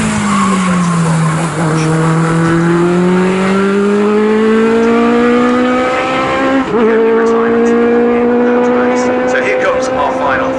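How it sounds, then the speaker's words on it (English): Legends race cars howl past at Snetterton circuit, one loud engine note rising steadily through the gears with a sharp shift partway through, close and continuous over the roar of the field. "here comes our final finisher, Paul Groves, for the win of the number 27 car"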